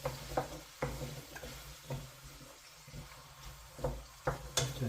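Two medium onions softening over medium-low heat in a frying pan, a soft continuous sizzle broken by repeated stirring scrapes and knocks, close and moderately quiet with no talking.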